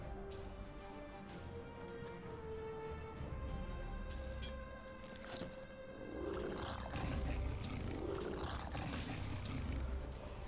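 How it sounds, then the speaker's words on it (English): A wolf in the Shadowgate video game lets out a low, throaty growl, rumbling and sustained over an ambient game music drone, with no talk. "the wolf growls a throaty warning"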